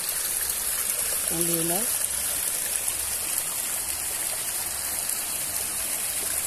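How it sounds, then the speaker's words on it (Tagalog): Cold water on a rural farm rushes in a steady, close, full stream, with a brief spoken voice rising over the flow near the start. "Ito nga yung tubig eh"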